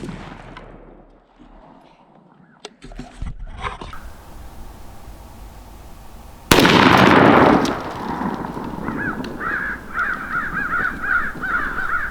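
A Stoeger M3020 shotgun fires one Federal TSS No. 9 shot shell during an outdoor pattern test, a single sharp, loud blast midway through, with crows cawing repeatedly before and after it.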